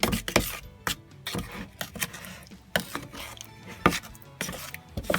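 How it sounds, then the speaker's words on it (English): Scraper working wet concrete for a model farm yard, giving repeated scraping, slapping and chopping strokes at an uneven rhythm, close and fairly clear with no talk over them. "use a scraper also to help mix it"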